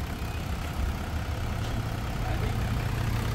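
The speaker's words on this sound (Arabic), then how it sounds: "الموتور ساكت اللهم بارك، بحال تقول ليسانس." A 2015 Range Rover engine idles quietly and steadily, a low, even hum that runs unbroken and alone throughout.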